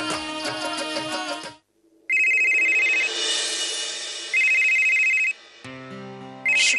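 A telephone rings in a Hindi TV serial scene. Brief music gives way to a loud, close electronic ringtone that repeats its tone pattern three times, with short gaps between.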